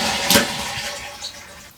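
A toilet flushes with its water supply shut off: a short surge of rushing water, then a draining wash that fades without any refill.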